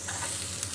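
Onions and garlic frying with dried prawns in a pan, a brief, even sizzling hiss heard close up with no distinct stirring strikes.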